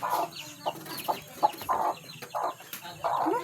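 Young chicks peep and cluck in quick, overlapping calls close by, a busy chorus of soft chirps with no pauses.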